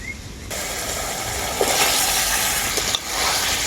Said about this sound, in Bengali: পটল আর আলুটাকে আমি খুব ভালো করে মশলার সাথে কষিয়ে নেব